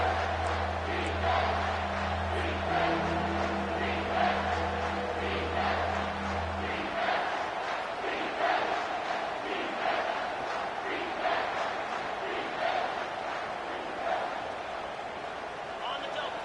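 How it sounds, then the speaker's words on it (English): A stadium crowd in the College Football 25 video game, LSU versus Alabama, roars as a loud, sustained wash of noise. Tonal game sounds sit beneath it for the first seven seconds, and a commentator's voice runs through the whole stretch. "this crowd is tearing the lid off this place"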